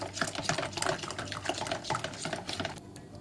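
Milk being stirred into a semolina and walnut dessert sauce in a pot, quick irregular clinks and scrapes of a utensil against the pan with soft liquid sloshing, close and moderately quiet.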